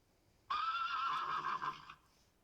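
A single whinnying horse neigh sounds as a stage effect in a high school production of Our Town, loud and close, lasting about a second and a half with a wavering pitch before cutting off.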